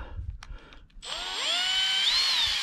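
A cordless power drill drives a large screw to anchor a motorhome awning, a short whirring spin-up after a few light taps, with rising and falling motor pitch as it tightens, close and loud.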